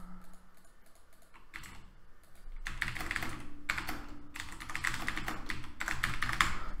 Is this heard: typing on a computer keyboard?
yes